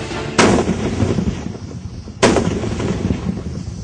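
Cross-border gunfire and shelling along the India-Pakistan border in the RS Pura sector, two heavy booming blasts about two seconds apart, each rolling into a long rumbling tail, loud and with no speech.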